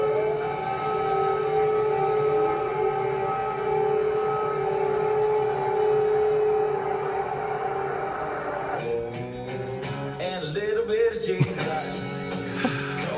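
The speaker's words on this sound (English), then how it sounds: "What you'll see is them airing footage of an air raid siren going off in the Ukraine." An air raid siren wails in Ukraine, a long sustained rising-and-falling civil defense tone heard from a distance, giving way after several seconds to other sounds and brief voices.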